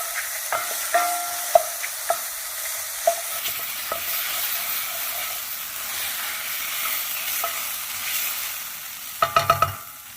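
Dry lemon pepper spice warming in a pan for a creamy garlic mushroom sauce, a continuous soft sizzle with scattered utensil taps early on and a quick burst of clinks near the end.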